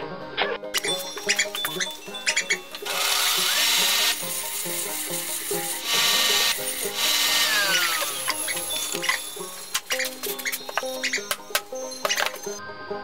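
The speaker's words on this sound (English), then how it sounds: "Yeah, maybe I can sharpen that some more." A power tool sharpens a piece in a home workshop with a busy, irregular whirring and grinding. Louder sustained bursts are broken by clattering and scraping, close to the listener and with no talk.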